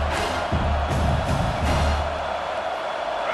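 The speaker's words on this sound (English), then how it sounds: "Man, this crowd really affecting the football game." The home crowd roars at South Carolina's Williams-Brice Stadium during a college football game against North Carolina, a dense, distant wash of cheering with some swells, sustained throughout.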